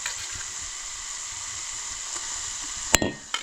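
Onions fry with a steady, soft hiss in a pan on a wood-fired chulha as goda masala goes in, followed by a sharp clatter and a brief burst of sizzling.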